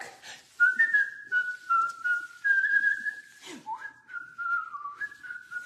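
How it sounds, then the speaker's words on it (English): A person whistles a wavering tune while cleaning up in the kitchen, clear and close, in several sustained phrases broken by short pauses. "Whistle while you work."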